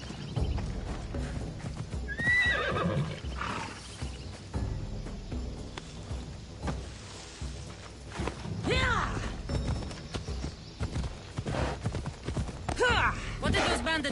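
A horse in Assassin's Creed Odyssey neighs and whinnies several times over steady clip-clopping hooves, with game voices talking and occasional thuds mixed in.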